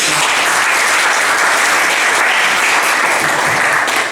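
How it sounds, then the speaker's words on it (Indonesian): Students in a classroom history lesson give a round of applause, loud, dense and continuous clapping from start to finish before trailing off. "Berikan tepuk tangan."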